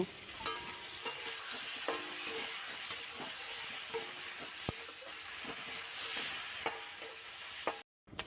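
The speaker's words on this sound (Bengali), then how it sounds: "চিংড়ি মাছগুলোকে ভেজে নেব।" Prawns fry in hot mustard oil in a kadai, making a steady hiss and sputter with scattered pops and light stirring clicks. The sound cuts out briefly just before the end.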